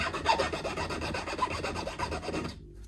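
Steady, fine abrasive rasping of sanding on newly leveled metal frets of a Fender Mexican Telecaster, continuous back-and-forth strokes close up, stopping abruptly near the end.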